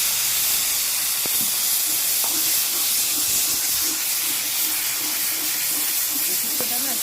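Eggplant hisses and sizzles as it fries in hot oil in a pan for Bangladeshi sukto, a constant bright spitting hiss with occasional clinks of a utensil.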